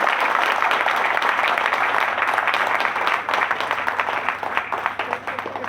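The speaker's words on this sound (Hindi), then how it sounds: "जोरदार तालियां होनी चाहिए इनके लिए।" Hall audience at a motivational business event applauding new guests, dense sustained clapping that stays loud throughout and thins slightly toward the end, with faint voices underneath.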